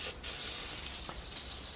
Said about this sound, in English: we are going to spray like a maniac